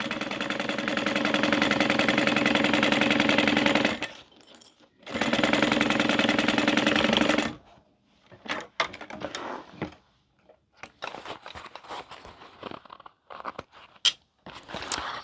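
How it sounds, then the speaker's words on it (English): Sewing machine stitching a seam across the exterior of a boxy bag, two steady whirring runs of about three seconds each with a short pause between, then scattered clicks and handling noises of fabric. "we're gonna sew this at 1/2 inch, and we're gonna stitch all the way across"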